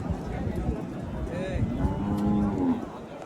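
Large bulls gathered at a bullock cart race low with deep, drawn-out moos over a noisy outdoor background, with faint voices in the mix.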